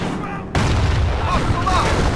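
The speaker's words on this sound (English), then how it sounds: "Battery taking fire." Artillery fire in the World War II strategy game Company of Heroes, a sudden heavy boom after a half-second of quieter rumble, followed by a dense, continuous barrage of loud blasts with radio-style voices underneath.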